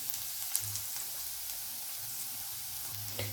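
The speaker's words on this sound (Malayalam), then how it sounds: "ഇപ്പോൾ ഉള്ളി നല്ല വഴണ്ട് വന്നിട്ടുണ്ട്" Onions sauté in a pan for a chickpea kadala curry, giving a steady close sizzle throughout with a few soft stirring bumps and no talking.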